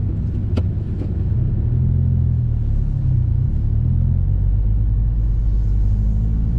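A 2022 Subaru WRX with JB4 tuning, ETS intake and a failing clutch rumbles steadily from inside the cabin, a deep droning engine note holding fairly constant with slight rises in pitch and no talk.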